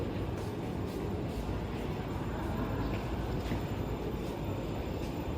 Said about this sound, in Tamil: ட்ரெயின் வந்துட்டு அடுத்த ட்ரெயின்.